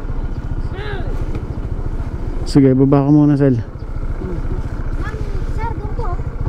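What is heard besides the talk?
motorcycle engine running at a parking area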